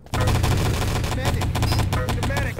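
Rapid automatic gunfire bursts from a team-based shooter video game, loud and sustained, with overlapping shots and occasional sharper impacts, players talking over the action.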